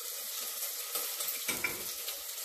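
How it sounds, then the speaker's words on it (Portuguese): Seasonings for feijoada sizzle and fry steadily in a pot, a continuous close hiss with a brief stirring flare midway. "Tá escutando fritar aí, gente?"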